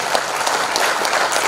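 An audience at a regional government planning meeting applauds, dense and steady clapping throughout, fairly loud and unbroken.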